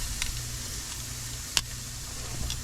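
Pot roast sears in a hot pan with a faint, steady sizzle and hiss, broken by one sharp crackle partway through, heard quietly with no talk.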